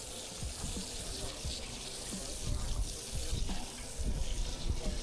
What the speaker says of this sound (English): Rinse my hands and rinse it out.